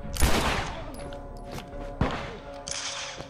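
Pistol fire in the video game The Last of Us Remastered: a few sharp, loud shots spaced irregularly over a few seconds, each a hard crack with a short tail, set against quieter game ambience.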